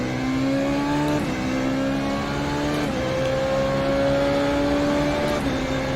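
A Formula Renault 3.5 open-wheel race car engine in the iRacing simulator holds a high, steady whine, broken by three quick gear shifts where the pitch drops and climbs again. It is loud and constant, with no talking.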